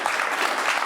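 Brief burst of studio audience applause on a Rwandan television talk show, dense even clapping filling the short moment with no voices on top.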